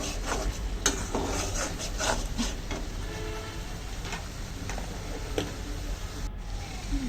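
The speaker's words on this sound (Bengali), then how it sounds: "ভালো করে মশলাটা কষিয়ে নেব" Masala paste with ground coriander is stirred and fried in a pan, giving a continuous rough, scraping sizzle broken by repeated spoon-on-pan scrapes at an uneven rhythm.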